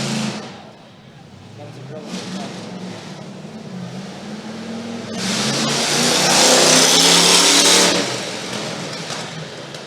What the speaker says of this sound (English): That was High Octane, I believe, was the name of that monster truck